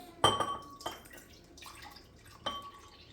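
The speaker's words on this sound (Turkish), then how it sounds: "Krem şantimizi yok ve sütümüzü döküyoruz." Milk splashes into a bowl as whipped cream is started, with a sharp liquid splash at the start, a second burst shortly after and another near the end, then quieter trickles and clinks between.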